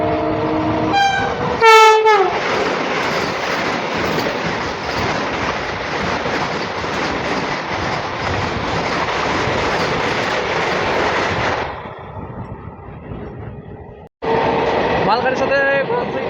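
A MEMU local train on the Rampurhat–Bardhaman line runs alongside a goods train near Bardhaman Junction, making a loud, steady rumble and clatter. A sharp horn blast comes early, the roar fades near the end, then rises again abruptly.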